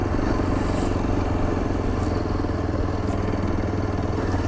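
Motorcycle riding through heavy slush on a mountain road in Himachal Pradesh, a steady close engine drone with constant wind and road rumble throughout, no speech.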